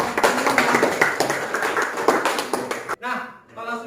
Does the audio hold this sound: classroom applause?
yes